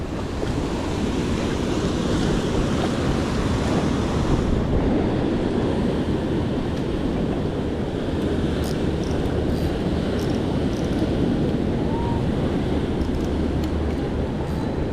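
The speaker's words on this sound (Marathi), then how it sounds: "लाटा बघा कसल्या खतरनाक असं वाटतं इथंच मोठ्या लाटा येतात" Big waves crash steadily onto the rocky Ratnagiri shore during a fishing outing, a loud unbroken roar of surf with strong wind buffeting the microphone.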